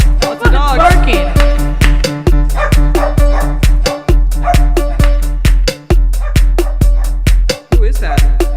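Loud dog barking arrives as a rapid, regular string of sharp barks, almost metronomic, over a sustained low tonal background, broken by a few brief pauses.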